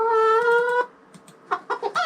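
A chicken sound effect made for a children's animation: a long drawn-out crow-like call first, then a pause and a run of short, separate clucks, each one clear and close.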